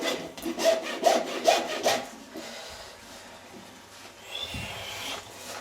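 A rasp scrapes a young horse's hoof during trimming, four or five rhythmic rough strokes up close, followed by quieter handling sounds.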